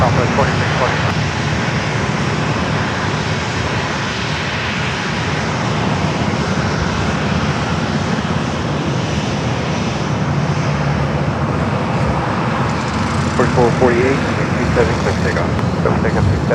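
A Southwest Boeing 737-700 jet airliner taking off at San Diego airport, its engines a steady broadband roar held at the same loudness throughout, with faint radio voices and distant road traffic underneath.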